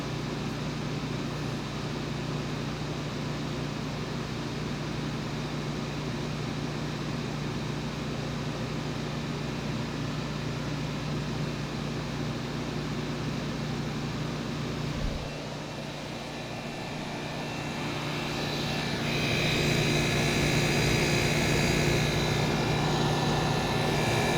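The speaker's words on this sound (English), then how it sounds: "a lot of these had the real noisy condenser fan" A 1970s Westinghouse 6000 BTU window air conditioner hums with a steady, even whir from its condenser fan and compressor, with no talking. Partway through it drops briefly, then returns slightly louder and brighter.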